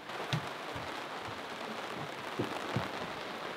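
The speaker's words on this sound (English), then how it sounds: "It is still raining." Soft, steady rain falling nearby on a sailboat, with a few heavier drops or thuds standing out from the constant patter.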